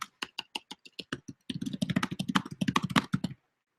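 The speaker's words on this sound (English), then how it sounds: "So here's typing some more" Typing on a computer keyboard during a writing software demonstration: evenly spaced single keystrokes at first, then a fast dense burst of clicking that stops abruptly.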